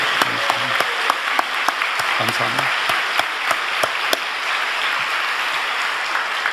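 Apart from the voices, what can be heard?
congregation applause in church service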